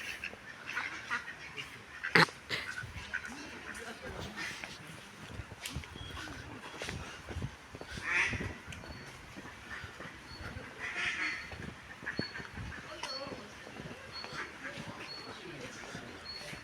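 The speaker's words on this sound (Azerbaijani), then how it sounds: "Ördəklər çoxdur əsas burada" Many ducks at feeding time at a restaurant's poultry area, faint overlapping quacks and honks in a busy outdoor setting, with a few sharper calls standing out.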